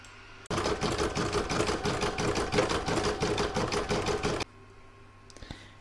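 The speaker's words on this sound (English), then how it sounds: "I'm now going to pop that back in my machine and do round four, which is a zigzag stitch." A sewing machine runs a zigzag stitch on a large fabric seashell catch-all, starting abruptly and whirring in a fast, steady rattle for about four seconds before stopping dead, close and loud.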